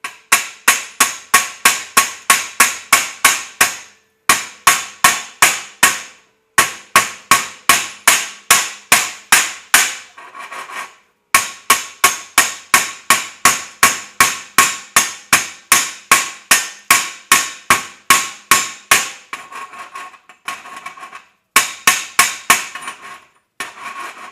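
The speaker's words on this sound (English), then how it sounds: "I guess I'm having to hammer off the flux every time." A hammer chips welding flux off a fresh SMAW stick weld made with 7018 rod, striking in long runs of rapid, sharp metallic taps with brief pauses between bursts. The taps are steady and close, with no talking.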